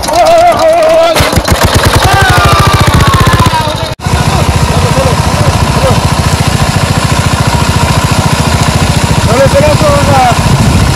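A small engine-driven water pump runs steadily at close range while draining a small home pond, a loud continuous rattling drone that briefly cuts out once and then resumes, with faint voices over it.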